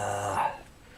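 A sick small dog whimpers and growls in one short, fairly loud whine that fades after about half a second into quiet background.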